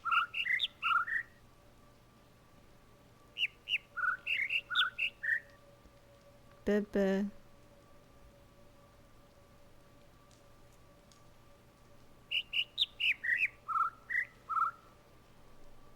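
Birds in the video game The Witness chirp in quick clustered bursts, pausing between groups, faint against a quiet backdrop, with a brief spoken sound in the middle.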